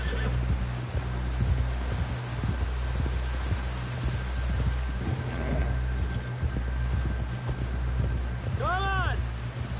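A horse whinnies near the end in the video game Red Dead Redemption 2, over rhythmic hoof clops, rustling movement and a low background drone, with voices in the scene.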